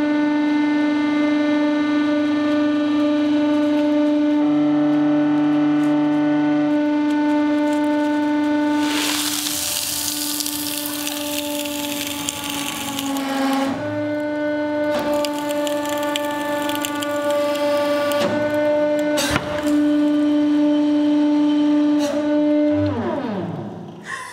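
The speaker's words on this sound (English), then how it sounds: "And now the fake gravel, I'm hoping this is going to make great sound" A hydraulic press crushes fake gravel against a constant loud mechanical hum, with sustained grinding and crunching bursts, scattered sharp cracks and snaps, and a final cluster of breaking sounds near the end.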